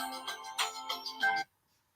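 A phone plays a melodic ringtone for about a second and a half, a close, fairly quiet electronic tune that cuts off abruptly into silence.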